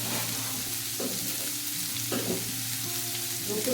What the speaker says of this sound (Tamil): நல்லா வதங்கட்டும். வெங்காயம் வதங்க